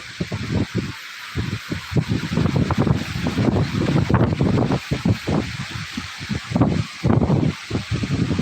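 Strong wind gusting hard through coconut trees in Konaseema, a loud, rough roar that buffets the microphone in uneven bursts, with no one speaking.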